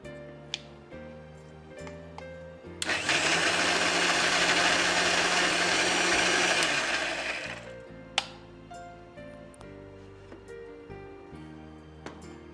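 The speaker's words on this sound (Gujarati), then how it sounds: "પાછું દહીં ક્રશ કરશું જી" A kitchen blender crushes curd during a cooking show, a loud steady whirring roar that runs for about four seconds, with quiet kitchen clatter and small knocks before and after.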